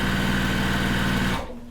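A sewing machine runs a steady, close, continuous stitching whir through quilt fabric, then cuts off abruptly near the end.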